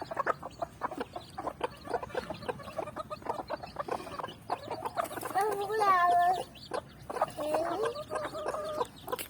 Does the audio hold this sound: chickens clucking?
yes